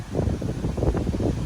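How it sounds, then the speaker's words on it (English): Strong gusty wind from Hurricane Ian in Tampa, Florida, a steady low rumbling roar buffeting the microphone with slight surges and no pauses throughout. "it's still very windy"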